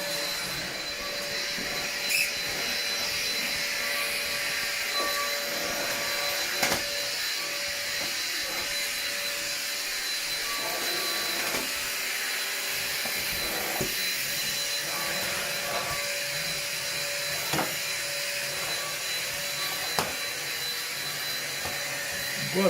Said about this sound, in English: This vacuum cleaner that I bought here, you can see it from Aldi.